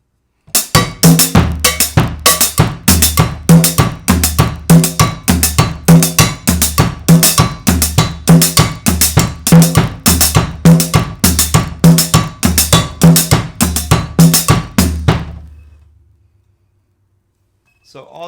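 A cumbia beat on a drum kit with cowbell, hi-hat and bass drum, with conga-style patterns added, played fast in a tight, loud, steady groove for about fifteen seconds before stopping abruptly.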